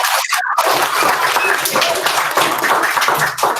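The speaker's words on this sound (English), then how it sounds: "So can we give Katie a clap?" A school assembly audience claps in a dense, sustained burst of applause, loud and continuous for several seconds.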